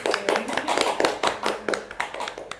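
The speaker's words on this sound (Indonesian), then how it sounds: "Tepuk tangan untuk kita semua" A small group claps for everyone present at a school gathering, with irregular, fairly close hand claps repeating through the whole stretch and no talk over them.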